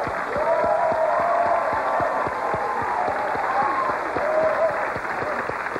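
Studio audience clapping and cheering at the 1,000th Tic Tac Dough game show taping in 1983, a sustained wash of applause with sharp individual claps standing out near the mic, staying loud and even throughout.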